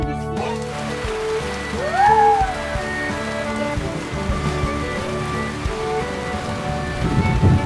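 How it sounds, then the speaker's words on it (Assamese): Rain falls steadily on a surface, a dense, even patter running throughout at moderate loudness, with a brief tonal rising-and-falling sound early on and faint background noise. "বৰষুণ দিছে"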